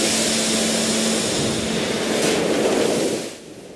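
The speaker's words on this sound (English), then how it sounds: "The research institute now has a new facility that can create artificial tsunami waves to test the safety of" Artificial tsunami waves surge through a test pool at a facility near Tokyo built to test nuclear power plant safety, a loud, steady broadband rush of water that holds for about three seconds and then drops away.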